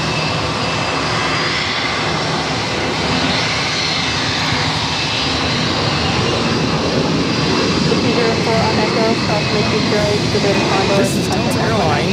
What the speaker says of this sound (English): This is Delta Airlines 2357 taking off to Washington Reagan National on an A319.